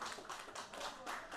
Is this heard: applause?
yes